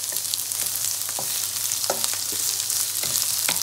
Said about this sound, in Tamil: இந்த சோயா மீட்டை ஒரு பொரியிற மாதிரி பொரிப்போம்